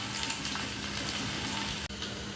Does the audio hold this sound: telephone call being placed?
no